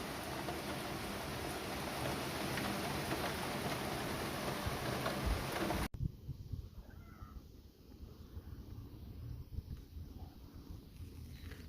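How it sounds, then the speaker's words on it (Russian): Heavy rain driven by strong, hurricane-force wind that shakes the trees in Yeysk before dawn makes a loud, dense roar for about six seconds, then cuts to a much quieter, patchy patter of rain and gusts. "Но дождь идет очень сильный, ветер качает деревья."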